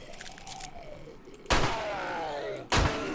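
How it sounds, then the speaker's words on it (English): Two loud pistol shots fired in the video game 7 Days to Die, crisp sharp reports about a second apart over quieter background game noise. "Let's use our pistol."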